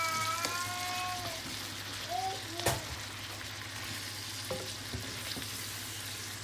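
Green beans and onions frying in olive oil for Lebanese loubieh, with a steady close sizzle and a few scraping stirs of the pan, no talking.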